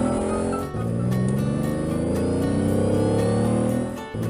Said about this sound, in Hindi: लकी अपने बैटरी कार में तेजी से जाने लगा